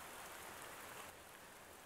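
Steady rain patters softly and continuously, a faint even hiss of drops falling on a surface.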